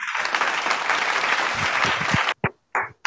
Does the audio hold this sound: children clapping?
yes